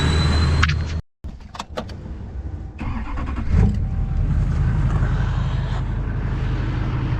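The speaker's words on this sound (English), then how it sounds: "now the high idle kicks in" A tractor or truck engine drones steadily at high idle during winter hay grinding with a Haybuster Big Bite, loud and close, broken by a brief cutout and a few clunks.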